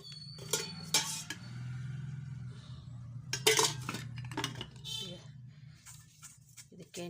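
A plate being handled and greased with oil on a low gas flame, with soft clinks and scrapes of dishware and utensils under a woman's speech.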